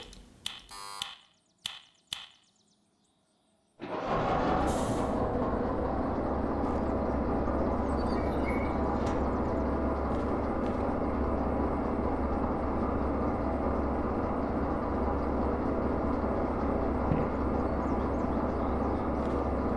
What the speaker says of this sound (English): This is a loud train, especially when I'm stuck in this area.